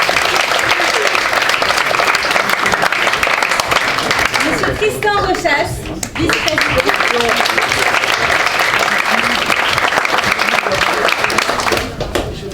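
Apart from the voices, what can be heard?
audience applauding at a debate championship final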